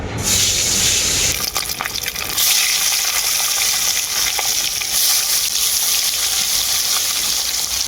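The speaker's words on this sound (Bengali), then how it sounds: "তেলটা খুব ভালোভাবে গরম হয়ে গেছে আমি এখন মাছগুলো ভেজে নেব" Fish fries in hot mustard oil in a wok, producing a loud, continuous, hissing roar that stays close and even throughout, with no talking.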